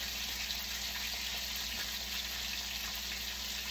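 A steak frying in a pan, a steady dense sizzle and crackle holding at an even level throughout, with no talking.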